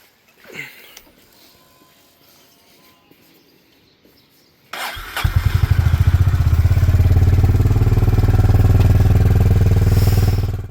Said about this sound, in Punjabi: ਇੱਕ ਵਾਰੀ ਆਪਾਂ ਬਾਈਕ ਨੂੰ ਸਟਾਰਟ